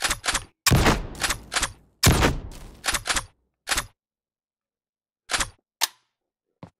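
Short bursts of VR weapon fire in an Unreal Engine 5.1 demo, loud and close, several quick shots in clusters followed by sparse single cracks separated by silence.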